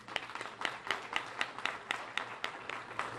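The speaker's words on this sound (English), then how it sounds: "I definitely think we need to give them another round of applause" A small audience at a store grand opening applauds veterans, producing soft, fairly distant clapping with separate claps in an uneven rhythm that stays quiet throughout.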